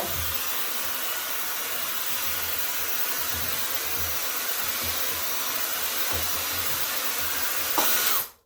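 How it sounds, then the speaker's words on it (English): A steady, loud rush of blowing air from a Cweixi hot-air styling brush runs unbroken, then cuts off abruptly at the end. "Coming out here, it's a brush, but it's a blow dryer."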